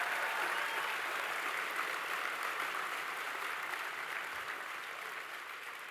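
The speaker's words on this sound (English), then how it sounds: "I want you to give them a round of applause" A large audience at a closing ceremony applauds the volunteers, producing a dense, continuous wash of clapping that holds steady throughout and tapers slightly near the end.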